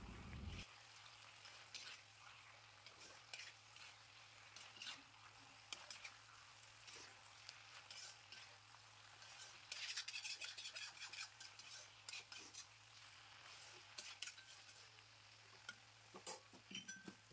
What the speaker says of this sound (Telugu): ఫ్రై చేసుకున్న ప్రాన్స్ అన్నీ ఇందులో వేసి ప్రాన్స్కి సాస్ మొత్తం